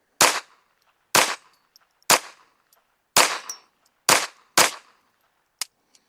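A Taurus TX22 rimfire pistol fires CCI rounds, six sharp close shots at roughly one-second intervals, then a fainter final crack as the magazine empties.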